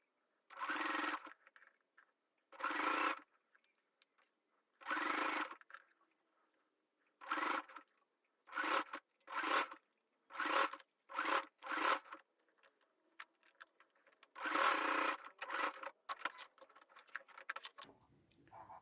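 A sewing machine stitching the underwire channel of a handmade bikini, joining it to the centre front and bottom band. About a dozen separate stitching bursts of uneven length come with short pauses between them, close and fairly quiet, with no talking.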